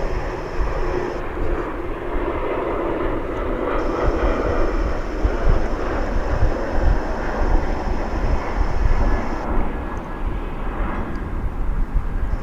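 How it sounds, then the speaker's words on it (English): A jet airliner landing at DFW airport, heard from the north end of the west runways: a loud, continuous broadband roar that builds and holds across the whole stretch, with no talk. "planes are landing from the south."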